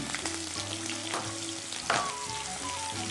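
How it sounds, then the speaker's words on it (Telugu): Green chillies and chopped onions fry in hot oil in a home kitchen, a steady close sizzle and crackle with light stirring scrapes, one brief louder burst near the end, no talking. "ఇప్పుడు చూడు అసలు సౌండ్ వస్తుంది. పచ్చిమిర్చి వేసుకున్నామా, అవి వేగుతూ ఉండగా ఈ ఉల్లిపాయ ముక్కలు కూడా వేసేస్తాం."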